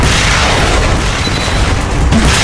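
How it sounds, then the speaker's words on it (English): A sniper rifle shot booms in the video game Xonotic, a loud, dense burst of noise filling the short moment with no talking. "You see the sniper shot, guys?"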